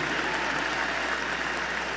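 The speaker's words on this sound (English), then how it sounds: "Yeah, let's give it a round of applause." Steady, distant crowd applause in a stadium at a university commencement ceremony, cheering computer science master's graduates, an even, sustained wash of clapping.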